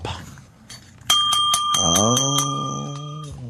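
A bell rings out in bright, repeated metallic strikes over a studio background, then sustained resonant tones and a low droning sound ring on together before fading.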